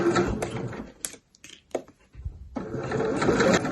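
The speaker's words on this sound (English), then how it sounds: "Then I can put my foot back down and carry on sewing." A domestic sewing machine stitches fabric for a pencil case in bursts of fast, steady mechanical whirring, pausing briefly in the middle before running continuously again, close and clear.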